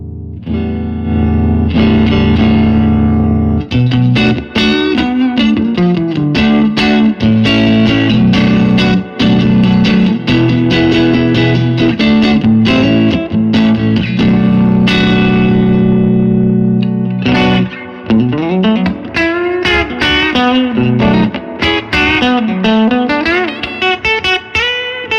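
Electric guitar through a custom-built 22-watt AB763-style amp with rhythm and lead channels blended, playing loud, continuous overdriven chords and runs with no talk.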